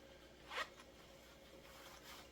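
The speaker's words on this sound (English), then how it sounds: "You got a little zipper on the back if you want to keep your gloves tight on you." A single quick pull of a small zipper on the back of a glove, short and close, followed by quiet handling noise.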